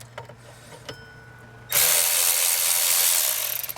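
A ratchet wrench loosens a hose clamp at the water pump of a 1996 Ford F-250 with a 7.3L Powerstroke diesel, heard as a loud, continuous, dense clicking run that starts abruptly partway through and continues to the end.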